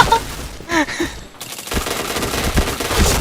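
Rapid automatic gunfire from a video game, a dense continuous burst of shots filling the second half after a brief quieter stretch with faint voices and chirpy effects at the start.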